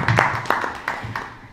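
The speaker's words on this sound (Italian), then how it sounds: "Applauso per Marco." A small audience at a book presentation in Catanzaro gives brief, light applause, scattered hand claps heard close for a second or two.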